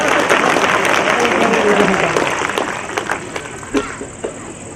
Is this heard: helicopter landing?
no